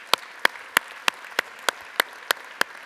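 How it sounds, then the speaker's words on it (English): A single person claps slowly and steadily at a scouting award luncheon, about ten sharp, evenly spaced claps ringing out clearly against a quiet room. "Give yourselves a round of applause for being here today."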